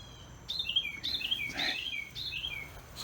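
Outdoors, birds give a series of clear, high chirps in quick bursts, close and moderately loud over faint background noise.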